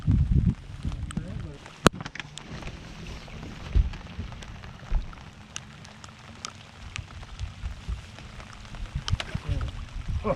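Steady patter of rain on Rainy River while walleye fishing, with scattered sharp drops and occasional louder knocks, alongside low rumbling water and movement noises close by.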